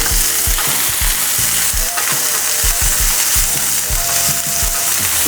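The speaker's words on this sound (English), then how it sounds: "let's saute our bell peppers and some onions" Bell peppers and shallots saute loudly in a pan, a steady close sizzle broken by repeated rhythmic scraping and stirring strokes, with no talk.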